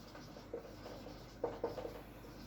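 Pen writing by hand during a maths lesson on direct and inverse proportions, faint scratchy strokes in short bursts with a few sharper taps, quiet and close, no talking.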